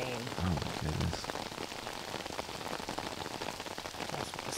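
Heavy, torrential rain pours down outdoors during a state championship event, an even dense hiss filling the whole stretch, with a voice briefly heard early on.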